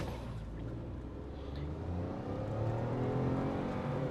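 A Citroen Basalt engine climbs steadily through the revs in manual mode, a close, continuous rising drone with cabin road noise beneath.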